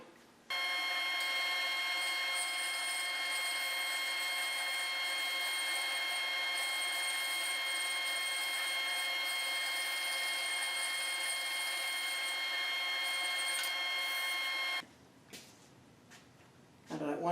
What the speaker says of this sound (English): So let me just keep cutting boards here.